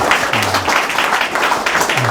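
Audience at a policy forum applauds a former minister, dense clapping at close range throughout the short stretch, with a voice briefly audible over it.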